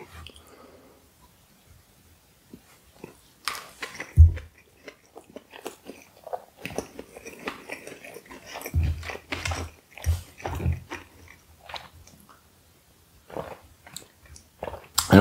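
Sushi rolls with salmon, tuna and shrimp are chewed up close, with soft wet bites and squishy chewing in irregular bursts separated by quiet pauses.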